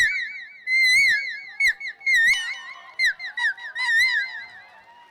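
Someone whistles an imitation of a koel's call, rising and falling warbles repeated in bursts with short pauses, clear and close with no other sounds.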